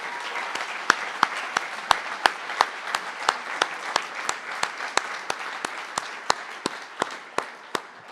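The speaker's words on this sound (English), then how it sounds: "Huge rounds of applause for our council leaders, please." A school audience at a Year 13 honours ceremony gives its council leaders a sustained round of applause, with dense clapping and sharp individual claps standing out steadily throughout.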